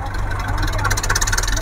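A tractor engine runs as the machine moves down off a raised spot at a fair, a steady, loud mid-pitched drone with a fluttering vibration and no talk over it.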